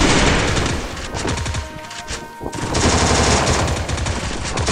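Rapid automatic gunfire from a shooting video game, loud dense bursts of shots that briefly pause midway and then resume, with no talking.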